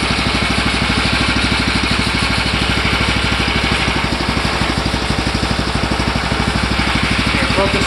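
A Predator 420cc engine on a go-kart fires up for the first time and runs steadily, a loud, continuous idle with a fast, even pulsing throb throughout, no talk over it.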